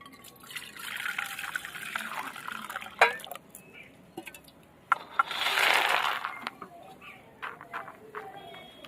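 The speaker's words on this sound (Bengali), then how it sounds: "আমি এখানে গরম জল নিয়ে নিয়েছি সয়াবিনগুলো আগে ভিজিয়ে নেব" Hot water poured over soybeans in a bowl to soak them, a close, soft liquid splashing and trickling with brief clatters, fading in and out under quiet background.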